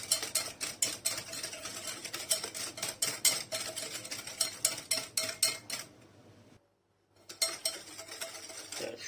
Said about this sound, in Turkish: şekerle yumurtayı iyice karıştıralım